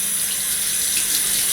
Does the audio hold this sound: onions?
no